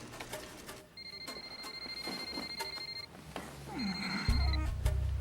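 A home telephone rings in a quiet room, two long electronic rings separated by a short pause, fairly close and clear with no talking over it.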